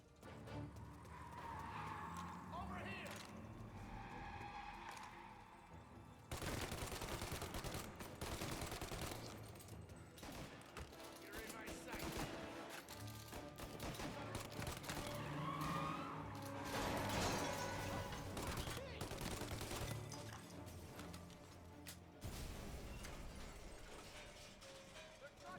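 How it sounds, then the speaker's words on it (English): Gunfire crackles in bursts during a shootout in Mafia Definitive Edition, rapid volleys over a busy game soundscape with a horse whinnying and hooves clopping at times. "Bullets."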